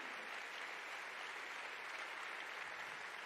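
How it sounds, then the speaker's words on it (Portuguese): Steady, dense applause from a church congregation praising the Lord during a worship service, a continuous wash of many hands clapping at even loudness throughout, with no voices standing out. "Dale un fuerte aplauso al Señor."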